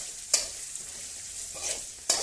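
A spoon stirs turmeric through a capsicum rice mixture in a pan, giving soft scraping swishes with a couple of sharper clinks over a steady faint sizzle, close up with no talking.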